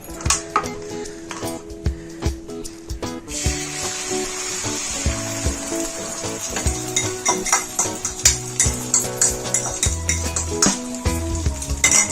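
Oil hisses and sizzles on a hot griddle ready for frying an egg, with a steady frying hiss under repeated scraping and clinking of a utensil against the pan, fairly close and loud.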